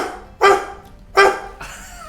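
A person imitates a dog with their voice, giving two loud, close bark-like yelps spaced under a second apart, then a softer, drawn-out whine.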